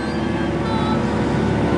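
Tractor engine droning steadily while seeding a field in Tambellup, a constant low mechanical rumble with no speech.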